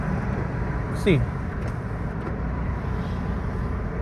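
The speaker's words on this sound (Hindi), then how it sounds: "you must be able to here not just the sound of जो गाड़ियों की आवाज़ है वो नहीं, और जो विंड है वो विंड भी काफ़ी तेज़ आ रही है" Steady roar of road traffic and strong wind through an open car window while driving, a dense broadband rush that fills the background while someone speaks briefly.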